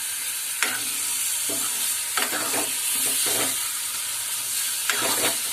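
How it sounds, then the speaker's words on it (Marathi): Freshly ground masala sizzles loudly in a hot pan for a Malvani black peas curry, with a constant frying hiss broken by several scraping stirs of a spoon, close up and without speech. "तिथे मी 2 मोठे चमचे आता मसाला वाटलेला मसाला टाकते।"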